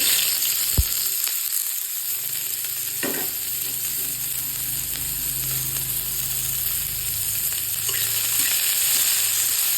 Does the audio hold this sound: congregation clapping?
no